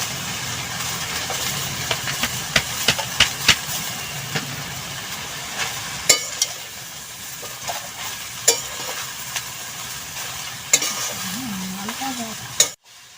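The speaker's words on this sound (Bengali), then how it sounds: "শাক সহ সবজিগুলোকে তুলে দিতে হবে আর কিছুক্ষণ নাড়াচাড়া করতে হবে শাকগুলোকে" Marish greens and vegetables stir-fry with browned onions in a wok, a steady sizzle broken by repeated sharp scrapes and clanks of the stirring spoon, ending abruptly.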